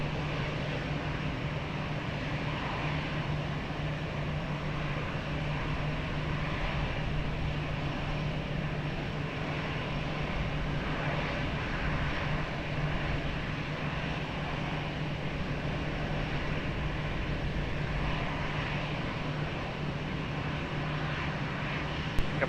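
An airliner takes off from runway 20 at Lisbon Airport, heard as a steady, distant engine roar with a constant hum running throughout, fairly faint and with no voices.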